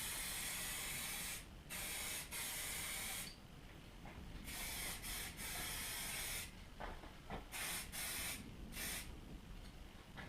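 Textured spray paint hisses from an aerosol can onto a VW Jetta Mk2 part in repeated bursts with brief pauses between, close and continuous, the nozzle rattling faintly.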